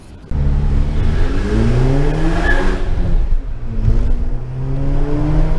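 A motorcycle engine revs up and accelerates close by, its pitch rising in strong sweeps, easing briefly and then climbing again, loud and alone.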